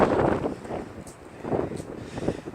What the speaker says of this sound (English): you can see the wind's really kicking.